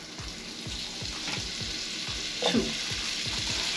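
Butter melting and sizzling in a pan while a whole chicken is prepared, with a steady close sizzle and regular stirring scrapes throughout, and two short spoken words early on.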